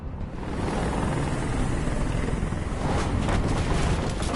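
A helicopter hovers close by in the game Detroit: Become Human, a loud, steady rotor roar with buffeting wind that swells slightly, with no speech.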